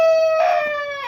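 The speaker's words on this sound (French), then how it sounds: "Donc on sent venir les poules et les coqs." A rooster crows in a shrill, drawn-out call with a harmonic tone, close and loud, among chickens.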